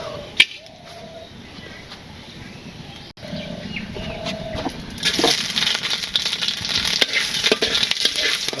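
Spices for a tempering hit hot oil and burst into a loud, bright sizzle, rising from a quiet background of faint chirps and clicks into a dense crackle that carries on steadily; no voices are heard.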